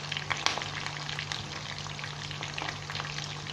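Fish 65 pieces frying in hot oil with curry leaves, a steady dense sizzle with crackling pops throughout, close and continuous with no talk.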